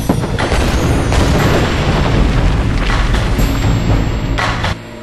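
A Joseon-era Korean singijeon rocket warhead bursts in a heavy, rumbling boom that fills the whole stretch, with crackling debris on top before it drops away near the end.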